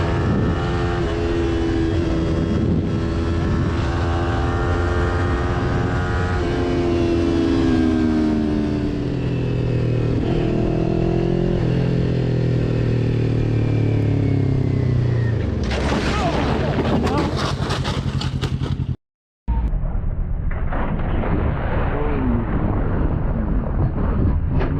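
Motorcycles ride past with revving engines that rise and fall in pitch, loud and close, and a harsher burst near the end before a brief dropout.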